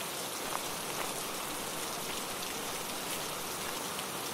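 Steady rain falls on a rainy monsoon day, a dense even hiss of drops on surfaces with faint scattered patters, constant and close throughout with no voices.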